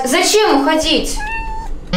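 Kittens meow in high, wavering cries, several calls close by over about two seconds, with a person speaking over them.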